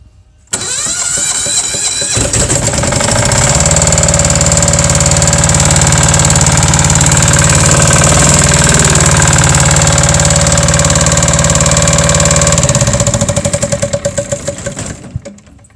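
A Kipor KDE6700TA diesel generator starts up about half a second in, then runs loud and steady with a constant hum for roughly twelve seconds before it shuts down and winds off near the end.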